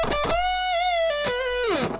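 A heavily distorted electric guitar plays a short, fast lick with a sustained bent note that bends up, holds with slight vibrato, and slides down at the end, loud and close.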